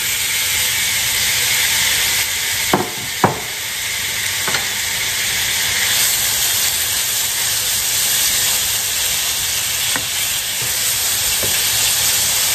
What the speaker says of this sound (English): While uh, this is searing.